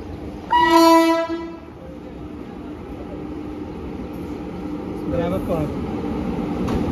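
Indian Railways express train passing near Jammu Tawi, a loud two-tone horn blast near the start, then steady rumble and clatter of rolling coaches continuing under faint background voices.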